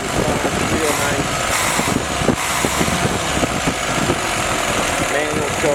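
Willys F head engine with a newly fitted Weber carburetor and Rockford PTO idling steadily, a loud, even, slightly uneven chugging hum throughout, with a voice faintly present over it.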